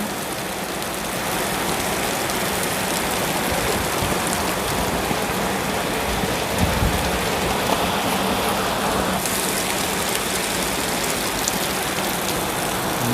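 Heavy rain pours down steadily, a dense, loud hiss of drops pattering on surfaces, continuous for the whole stretch with no voices.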